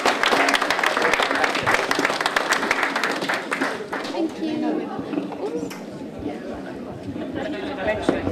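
Audience applause at an art society summer exhibition, a dense round of clapping from a crowd with chatter mixed in, loud at first and then thinning out as voices take over.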